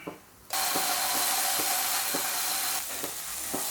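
A ready-made masala paste hits a hot pan of curry-leaf chicken curry with a sudden loud sizzle that holds steady, broken by soft spoon scrapes and taps as it is stirred, then settles slightly quieter.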